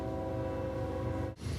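A train horn sounds from far down the tracks, one long, steady, faint blast with layered tones that cuts off abruptly near the end.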